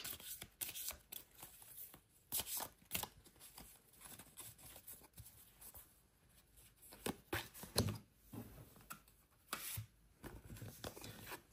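Tarot cards being shuffled for a Virgo astrology reading, heard as repeated crisp riffling and slapping bursts in irregular bunches with quiet gaps between, close and without talk.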